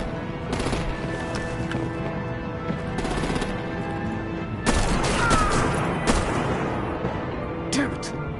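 Artillery and automatic gunfire in the video game Batman: The Enemy Within, sustained rattling bursts and booms with louder volleys partway through, mixed under game voices.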